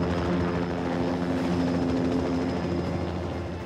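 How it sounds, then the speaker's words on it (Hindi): A helicopter hovers over the Yamuna Expressway near Mahoban village ahead of an IAF Mirage-2000 landing trial, its steady rotor drone loud and continuous throughout with no voices. "एक हेलीकॉप्टर आसमान में मंडराया"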